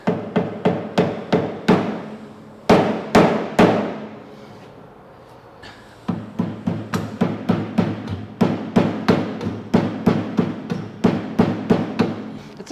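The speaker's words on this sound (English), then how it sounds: "I'm going to get a rubber mallet real quick." Heavy, dull thuds of a rubber mallet striking in steady rhythmic series while fitting a lift kit on a 1990s Suzuki Carry, with a short pause before the pounding resumes, loud and close.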